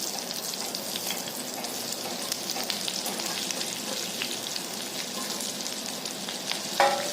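Green chillies frying in hot oil with asafoetida give a steady, dense sizzle that stays even throughout, with a brief louder crackle near the end and no voices.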